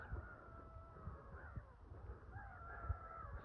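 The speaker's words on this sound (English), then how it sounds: "Some kind of birds. Look, I can't even begin to tell you what they are, but they're all screaming at me." Harsh, cawing bird calls ring out repeatedly in a garden by a lake, moderately close, over a faint outdoor background with no talking.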